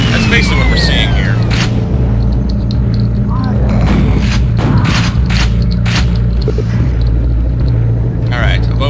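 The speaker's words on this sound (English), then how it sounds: "it seems to be firing single-barreled shotgun shots just rapidly." Rapid shotgun-style blasts in Team Fortress for Quake, played as a Heavy Weapons Guy in the sewage system level, go off as loud booming shots over a steady rumbling game ambience, with someone talking throughout.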